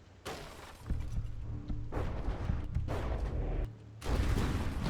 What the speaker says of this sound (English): We had some kind of explosion.